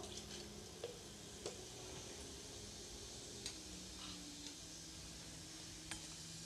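Mustard and cumin seeds in hot oil give a low, steady sizzle with scattered small pops and ticks, heard close and alone at a fairly quiet level.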